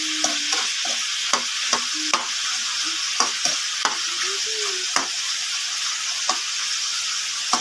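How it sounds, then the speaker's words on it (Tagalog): Meat sautéing in a pan for sinantolan, a loud continuous sizzle broken by regular scraping strokes as it is stirred, close and without talking. "Ayun po, nagisa na natin ang karne."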